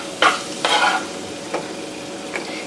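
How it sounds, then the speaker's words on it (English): Onions and tomatoes stirred in a pan of hot olive oil over medium-high heat, giving a few short scraping stir strokes over a faint steady sizzle, close and moderately loud. "we're going to drop that in the pan and stir that around a little bit"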